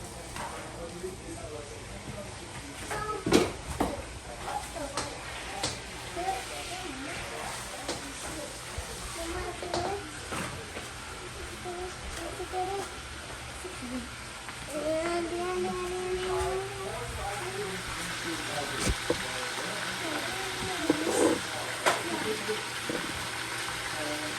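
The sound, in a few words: chicken frying in a pan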